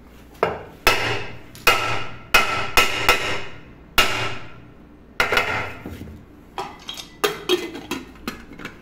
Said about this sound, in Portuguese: Vou começar batendo na boca dela aqui, ó.